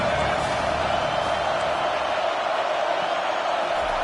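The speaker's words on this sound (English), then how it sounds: "Decibels rising as the crowd gets behind this defense on third down." A football stadium crowd cheers for the defense on third down, a loud, sustained roar that holds steady throughout.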